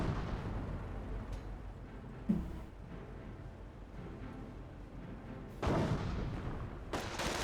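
Anti-tank gun fire with shells striking the ground in Company of Heroes: muffled booms and bursts over a low rumbling battlefield bed, with a couple of sharper impacts standing out.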